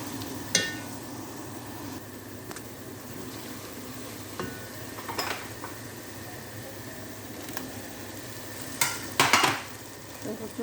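Onions cooking down with garlic and dry spices in a pan, making a low steady sizzle under scattered stirring scrapes, with a few sharper utensil clatters near the end.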